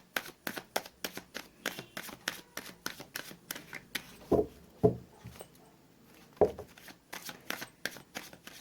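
Tarot cards being shuffled by cold, stiff hands, giving quick repeated riffling and slapping bursts at close range, with a few louder thumps midway and no talk.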